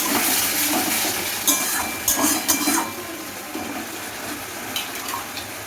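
Water poured into a pan of Bengali fish curry, a continuous rushing splash that is loud at first and then eases slightly, with a few sharper sizzling bursts partway through.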